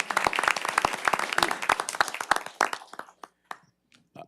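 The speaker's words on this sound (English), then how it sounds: "let's give him a round of applause anyway" Applause from a room of attendees at a city council meeting in Victoria, dense steady clapping for about three seconds that thins into a few scattered last claps before stopping.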